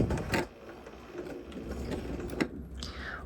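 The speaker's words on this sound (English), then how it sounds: "put this right there under my pressing foot, and I'm going to sew 2 to 3 stitches" A sewing machine stitching a curved quilt piece under the presser foot, a few quiet mechanical rattling stitches with small clicks, close and faint.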